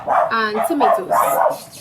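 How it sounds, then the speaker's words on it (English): A neighbor's dog barks sharply a few times close by, its yips overlapping a person speaking in a kitchen. "Sorry about the dog, guys. That's my neighbor dog."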